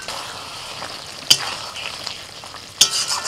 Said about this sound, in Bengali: মশলা ফুটে গেছে, আমি এবার ভাজা ঢেঁড়সগুলো দিয়ে দিচ্ছি।